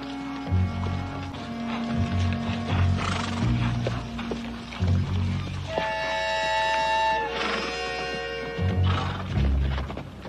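Horses clip-clop along in a Western scene, steady hoofbeats with a harness jingle and a brief neigh, heard under an orchestral music score that swells in the middle.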